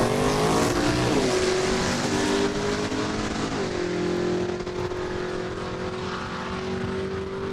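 Drag race cars at Saskatchewan International Raceway in Saskatoon roar loudly at the launch, their engine pitch sweeping and shifting as they accelerate away, with a sustained high-revving drone throughout.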